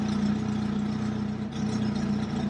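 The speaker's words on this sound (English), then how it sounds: "right now it's idling pretty good" A Jeep engine idles steadily at close range, a smooth continuous drone with a strong low hum and no revving, heard alone.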